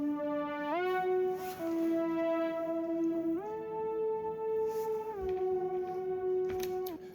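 A synth lead melody shaped with a bell EQ and OTT, sustained bright tones stepping between a few held pitches with short glides, loud and upfront with faint percussive ticks beneath.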